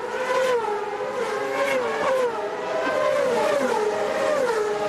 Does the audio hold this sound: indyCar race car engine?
yes